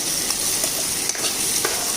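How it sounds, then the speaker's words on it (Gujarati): Spices crackle and sizzle in hot oil for a vaghar tempering, a dense steady hiss with a few small pops, close and without talking. "ભાત કર્યા પછી વઘાર નાખ્યો"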